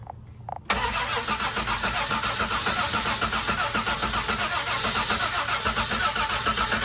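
Car engine cranking and catching after parts cleaner is sprayed in during a mobile mechanic's diagnostic, a short starter burst followed by a close, steady idle that runs on alone.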